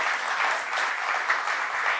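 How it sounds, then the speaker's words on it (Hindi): Audience applause at a ceremony, dense and steady clapping from many hands throughout, with no voices over it. "तो आज खूब ज़ोर से इनके लिए ताली बजा दीजिए आप सभी लोग।"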